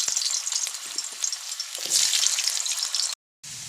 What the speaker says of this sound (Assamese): এতিয়া আমি আলুখিনি অলপ ভাজি লৈছোঁ।